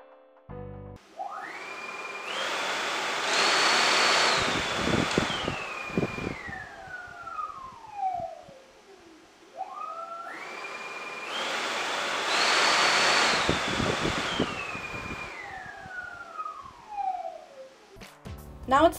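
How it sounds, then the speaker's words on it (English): A large drone fitted with a 30-inch Mejzlik propeller runs through two sound-test cycles, each rising to a loud, roaring whoosh with a tonal whine sweeping up, holding, then winding down. "Finally, our biggest prop today, the 30-inch Mejzlik prop. Let's see how it performs under our sound test."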